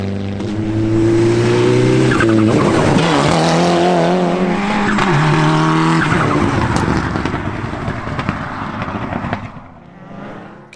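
Rally car tearing through a forest stage at a winter rally event, engine screaming loud and close as it revs up and down through gear changes, then fading away into the distance.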